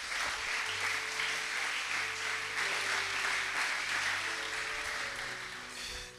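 A church congregation applauds in a dense, steady wash of clapping that holds at an even level throughout and tapers off slightly at the very end.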